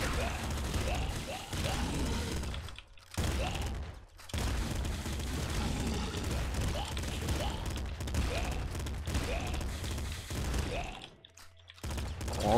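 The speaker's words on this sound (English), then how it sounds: "this shotgun is definitely really good" Shotgun blasts in a video game boom in quick bursts, close and loud, with brief gaps between volleys while a voice talks excitedly over the action.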